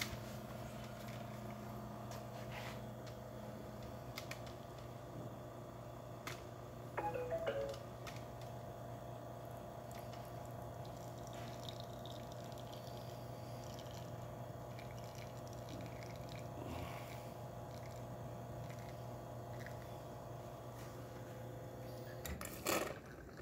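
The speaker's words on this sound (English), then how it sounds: "let's go ahead and make an espresso shot in it" A Quickmilk Vertrano espresso machine brews a shot. A faint, steady pump hum runs throughout with light dripping and trickling of liquid, plus a few brief clicks and a short rattle.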